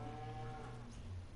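A person imitates a cow with a low, sustained moo that rumbles steadily for a little over a second. The voice is close and fairly quiet, with no other sounds around it.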